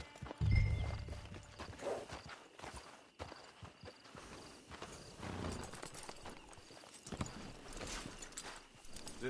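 Horse hooves clip-clop in a video game as a mount walks steadily toward a camp, with a faint snort near the start and soft background ambience.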